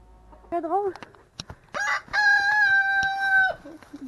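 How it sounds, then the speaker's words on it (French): Backyard chickens call loudly nearby, with a rising squawk followed by a long, sustained crowing cry, while a person speaks briefly in between. "je vais vous montrer mes amis les poules"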